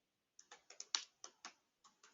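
Code being typed on a computer keyboard: about nine crisp, close key clicks at an uneven pace, some grouped in quick pairs, with quiet gaps between and no voices.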